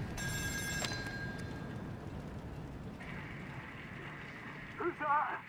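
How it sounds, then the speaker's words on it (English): An old telephone bell rings inside the industrial setting of the horror game Still Wakes the Deep, a faint metallic ring heard briefly amid low rumbling ambience, with a voice speaking over it. "Another phone call, bro?"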